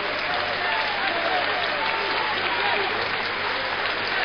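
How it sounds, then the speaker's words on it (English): A boxing crowd applauds Anthony Campbell after his bout with Georgie Smith, a thick, steady wash of clapping and crowd noise at constant loudness, with a voice partly audible underneath. "and he deserves that applause."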